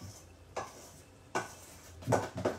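A spoon stirs cream into a rice ball mixture for Italian suppli in a pot, making four soft, wet scraping strokes at an uneven pace, close and quiet.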